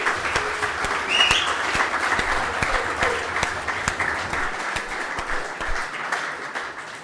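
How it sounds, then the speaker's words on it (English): Audience applauding for sponsors at a football club's end-of-season awards night, a steady wash of clapping held for several seconds, with scattered louder claps and faint voices underneath. "let's get a round of applause for our sponsors"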